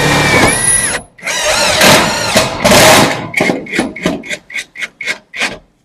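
A cordless impact drill bores into wood in a few long grinding runs, then a string of short, rapid bursts toward the end, close up.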